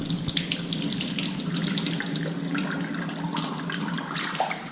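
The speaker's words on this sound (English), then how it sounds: "and then pour it all out" Water pouring out of a pot of rinsed rice into a sink while making onigiri, a steady close splashing stream with gurgling and small spatters that runs throughout.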